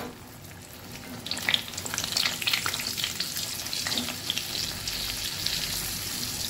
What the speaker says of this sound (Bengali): এইভাবে আমি সব কচুরিগুলোকে ভেজে নেব